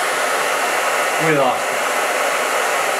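A hair dryer blows steadily through a loose-knit fabric mask toward a flame from about four feet away, a loud continuous rushing whoosh throughout, with a brief wavering dip partway and a short spoken phrase over it.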